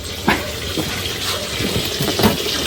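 Water running and splashing while a giant mortar for pounding papaya salad is rinsed out, a steady close gush with a few louder sloshes, no talking.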